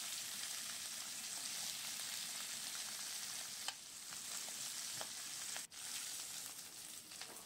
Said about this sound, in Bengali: একটু মাছের মাথাগুলো একটু ভালো করে ভেজে নিতে হবে।